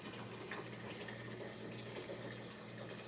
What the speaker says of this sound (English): So I'm going to pour the rest of water in the pot.